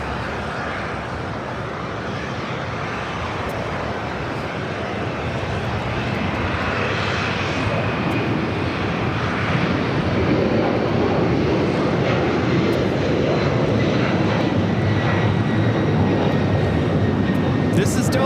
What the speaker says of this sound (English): This is Delta Airlines 951 taking off to JFK on a 767-300 DR.